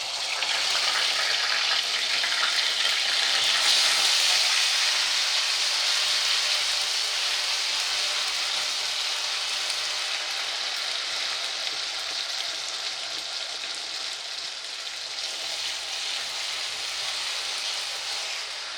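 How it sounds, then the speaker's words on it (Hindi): Spices crackle and sizzle steadily in hot oil for tuna curry, a dense, continuous frying hiss that stays close and fairly loud throughout, with no talking over it. "देखें, क्रैकल हो रहा है।"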